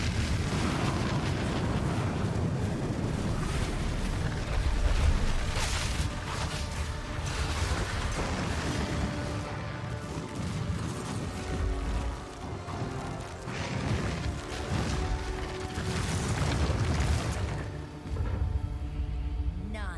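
Fire tornado explosions in the Diablo IV video game, a continuous roar of booming blasts, rumbling fire and crashing impacts throughout, dense and loud with no pauses.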